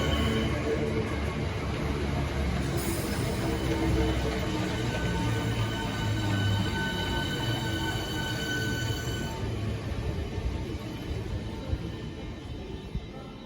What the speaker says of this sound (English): arriving now is the 10:43 southeastern service to Gravesend